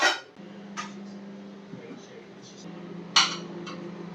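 A spoon stirs butter with a little rice in a pot, giving a few sharp metal clinks over a low steady hum.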